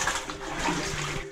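Water sloshing and splashing in a flooded tunnel as someone wades through on foot, a steady wet churning with soft echo throughout, fairly close and unbroken, with no talking.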